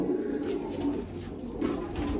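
Pigeons kept by a pigeon fancier coo in soft, low, throaty repeated calls, close by and continuous, with no voices.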